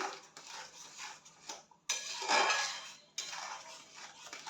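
A spoon stirs pumpkin chutney in a cooking pot, giving repeated scraping strokes and light metallic clinks, close and alone.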